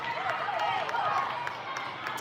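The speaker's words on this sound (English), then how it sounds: "And there's a lot of clapping." Spectators at a volleyball match clap steadily after a point is won, a dense patter of many hands with faint crowd murmur mixed in.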